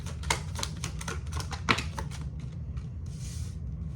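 Tarot cards are shuffled close by, a rapid run of crisp clicking and riffling taps that slows and fades into soft rustling toward the end.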